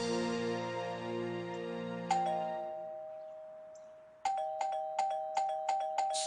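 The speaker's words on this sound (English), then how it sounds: "You said to ring the doorbell? One time, not 100." Doorbell chimes, a long ding-dong tone first, then a rapid string of about seven repeated bright rings pressed over and over, clear and close with no talk.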